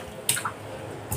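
Waste water coming out of a home water filter and collected in a container: two or three quick, wet drips and splashes, close and fairly loud against a quiet room.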